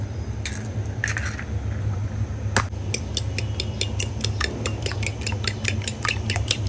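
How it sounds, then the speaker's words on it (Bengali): Eggs are beaten for fried rice with quick, evenly spaced clinks against a bowl, a fast steady rhythm that settles in after a few scattered knocks, close and fairly loud. "ভালো করে ডিমটাকে ফেটিয়ে নিব একদম ভালো মতো।"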